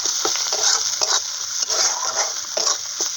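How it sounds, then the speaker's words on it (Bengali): Turmeric and spices stirred in hot oil in a frying pan for silver carp fish curry, with a loud continuous sizzle and repeated scraping strokes of the spatula. "ভালো করে নাড়িয়ে দেবো"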